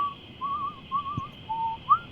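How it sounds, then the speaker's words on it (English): Person whistling a short, wavering tune of four or five sustained notes, clear and close, with a brief thump partway through. "Whistle an angry tune."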